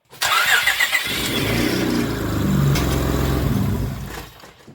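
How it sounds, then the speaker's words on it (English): A car engine cranks and catches after an oil change, then idles steadily up close with a low rumble, fading slightly at the end. "And then fire the engine up. Let it run for about 15 seconds or so."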